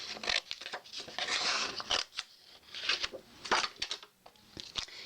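Scissors cut black paper for a Christmas thank-you card, making a quick run of crisp snips and slicing strokes in irregular bursts with short pauses, close and clear.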